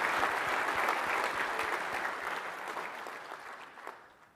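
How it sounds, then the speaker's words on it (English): A keynote audience gives a short round of applause. The dense clapping starts full and gradually thins and fades toward the end, heard at a moderate distance. "appreciate another little round of applause for Travis"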